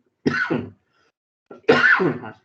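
An irritating cough, heard as two separate, close, loud bursts: a short hack, a pause of about a second, then a longer, harsher cough, with no talking.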